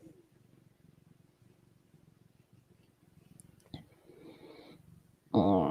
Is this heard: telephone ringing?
no